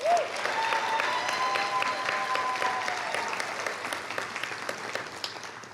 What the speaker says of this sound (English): Let's give all our graduates and scholarship recipients a round of applause